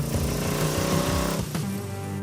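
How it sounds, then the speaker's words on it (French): An AC Cobra sports car driven flat out on a track, its engine roaring loud and close with a steady, harmonic-rich drone that briefly dips and shifts near the end. "Oh, une voiture musclée."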